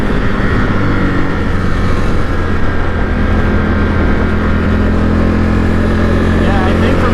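Engine and wind roar of a 2022 Indian FTR Carbon motorcycle while riding, a steady, dense drone that stays loud and unbroken throughout, heard close from the rider's position.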